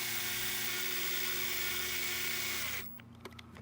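A power drill motor whines steadily while winding in, its pitch holding as load builds, then cuts off abruptly near the end, leaving only faint clicks and handling noise.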